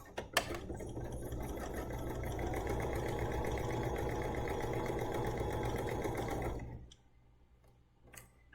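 A Bernina sewing machine sews a long stitch in one steady run of about six seconds, a close rhythmic mechanical hum with ticking needle strokes, then falls silent.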